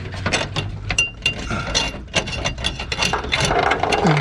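Quick ratchet clicks come in short bursts as a part is screwed on during work on a 1971 Vega wagon with a 5.3 LS swap, close-up metallic ticking with brief pauses and light clinks.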